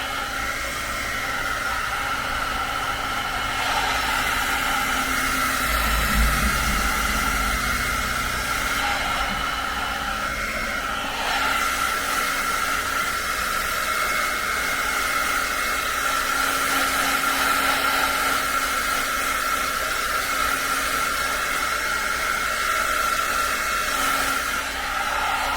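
A hair dryer blows steadily on wet watercolor paper, a constant loud whooshing hiss and motor drone that runs without a break, its tone shifting slightly as the dryer is moved around.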